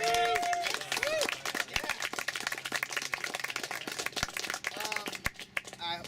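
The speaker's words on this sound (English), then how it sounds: "Let's give the panelists one more round of applause." Audience clapping for panelists at an event, a scattered run of claps mixed with crowd babble, with a voice heard briefly over it.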